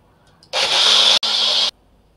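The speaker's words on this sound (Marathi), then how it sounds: "तर हे परत आपण फिरवून घेऊया मिक्सरला." An electric kitchen mixer grinder blends a homemade health drink in two loud, high-pitched whirring bursts with a split-second stop between them, close up, then falls silent.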